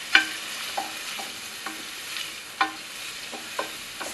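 Chopped onion sweats in a pan, giving a soft, steady low sizzle. Several distinct spoon clicks and scrapes land at irregular intervals, all close and fairly quiet.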